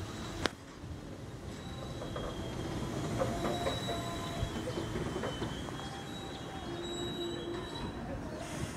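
A vintage locomotive shunting the Sawunggalih passenger train: a steady, moderately distant rumble of rolling rail cars with faint wheel squeals and a sharp clank near the start, while people talk lightly in the background.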